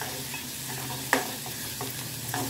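Turmeric fries in a little hot oil in a pan for dal. A soft, steady sizzle runs throughout, broken by a sharp scrape of a stirring spoon partway through and a fainter one near the end.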